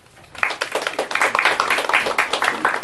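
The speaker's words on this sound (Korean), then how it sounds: "박수 부탁드리겠습니다" Audience at a book launch event applauds, the clapping building quickly from quiet into a brisk, fairly close burst that keeps going to the end.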